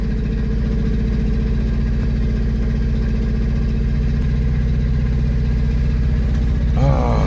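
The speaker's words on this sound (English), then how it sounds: "The engine sounds healthy enough, guys." A Honda Civic Series 1 engine idles steadily with the choke on, a loud, close, even mechanical drone that holds constant, with a brief shift near the end.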